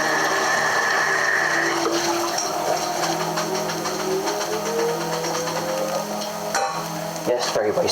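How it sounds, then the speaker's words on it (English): Cold tap water runs steadily over cooked noodles in a kitchen sink, a continuous loud splashing rush with clattering near the end. "I just need to run these noodles under the cold water"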